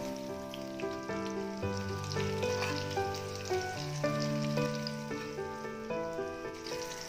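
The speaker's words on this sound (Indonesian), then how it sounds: "boleh kita balik terongnya seperti ini dan kita lanjut goreng hingga mateng ya" Eggplant frying in hot oil gives a soft, steady sizzle and crackle, nearly buried under a gentle melodic background music track, with no voices.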